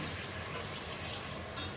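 Spices frying in a pan on high heat, in British Indian restaurant style: a dense, even sizzle and crackle that fills the whole moment, close and continuous, with faint stirring beneath.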